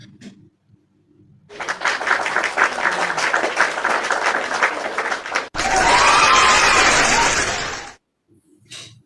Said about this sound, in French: Applaudissez pour moi encore.